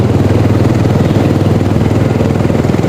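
A motorcycle engine runs steadily at a loud, close idle, its low throbbing pulse continuous throughout.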